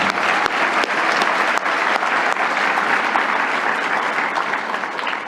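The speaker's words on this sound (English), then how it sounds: "let's give them a round of applause" Warm applause from an audience at a business hall of fame ceremony in New Jersey, steady and full, tapering slightly toward the end.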